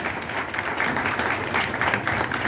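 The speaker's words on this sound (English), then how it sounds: "So let's give Chloe a round of applause." An audience at a vintage rockabilly fashion show applauds a model on the runway, a short burst of steady, moderately loud clapping from a crowd.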